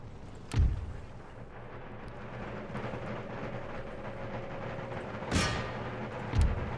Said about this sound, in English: Fire cannons, fire!